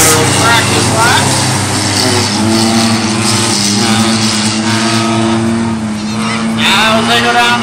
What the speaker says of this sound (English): That's John Giles in the 69 as our lead addition out there for a little practice lap